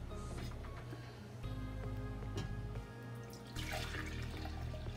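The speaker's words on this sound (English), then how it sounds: "I'm gonna pour some of it in my cup here." Pineapple, ginger and lime juice pours into a cup as a steady, close liquid stream with faint trickling and splashing that grows louder near the end.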